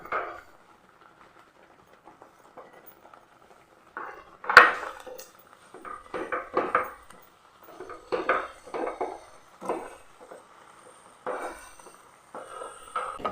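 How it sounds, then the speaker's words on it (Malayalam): A spoon scrapes and clinks against a pan as semolina mixture is stirred, in irregular close strokes with quiet gaps between them and no talking. "ഒട്ടും കട്ട പിടിക്കാതെ നല്ലപോലെ ഇളക്കി കൊടുക്കാം"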